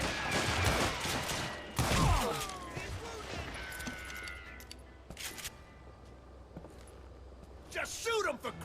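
Gunfire in the Western video game Call of Juarez Gunslinger, played on PS3: sharp shot bursts stand out around two seconds and again near eight seconds, mixed with game effects, ricochet-like whistles and shouting voices.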